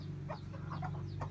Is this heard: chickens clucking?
yes